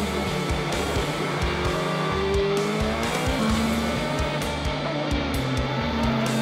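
Super GT race cars at Fuji run side by side out of the final corner onto the straight, their engines roaring loud and continuous with rising pitch and some tire squeal.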